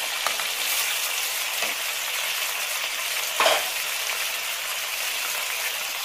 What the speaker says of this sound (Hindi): इसको अच्छे से भूनेंगे